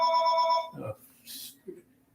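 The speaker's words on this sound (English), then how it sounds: "Unfortunately, I can't get rid of this phone, but Louise will answer" A telephone ringing indoors during a lecture, a steady harmonic ring lasting about three-quarters of a second, followed by brief handling noises and a short rustle.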